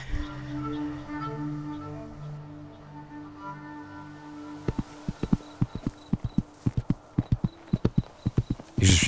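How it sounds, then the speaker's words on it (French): Horse hooves strike a road in a fast, regular clip-clop, rising out of a soft musical background into a run of loud, close, evenly spaced hoofbeats. "ressentant brusquement le choc violent des sabots sur la route"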